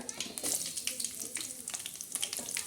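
Green chillies sizzle in hot tempering oil, a dense crackling fry with sputtering pops, steady and close.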